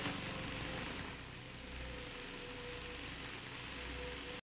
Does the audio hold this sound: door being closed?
no